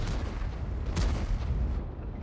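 A loud tank cannon shot in a tank video game, from a Centurion Mk 7/1 on the Live Oaks map, a single heavy boom with a rumbling tail amid battle noise.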